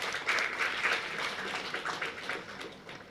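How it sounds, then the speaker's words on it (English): An audience at a university research day ceremony claps for the research awardees, a broad round of applause that swells early, then gradually thins and fades toward the end. "please join me in extending a big round of applause to the research awardees"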